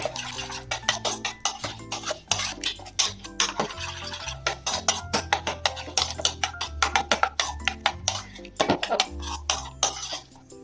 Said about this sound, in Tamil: எல்லா மசாலாவும் ஒன்னோட ஒன்று நல்லா கலக்கிற அளவுக்கு மிக்ஸ் பண்ணிக்கலாம்.